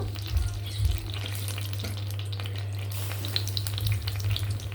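Onions, green chillies, curry leaves, bay leaf and cloves fry in hot oil in a pan for potato kurma, a steady close sizzle with light stirring scrapes and no talking.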